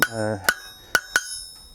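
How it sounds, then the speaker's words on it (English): A hammer strikes hot metal while a rosette stem is hand forged, with four sharp ringing blows at uneven intervals after a brief voice at the start. "I am creating large hammer marks"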